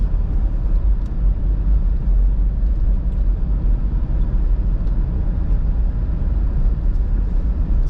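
Steady low road rumble inside a moving car, a constant engine and tyre drone filling the whole stretch with no talk and only faint ticks on top.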